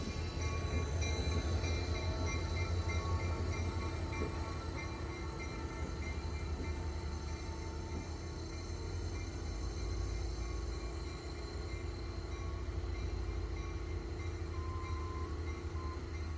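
Great Smoky Mountains Railroad train idling or rolling steadily, a continuous low mechanical rumble with a faint tonal hum, distant and even throughout, no voices.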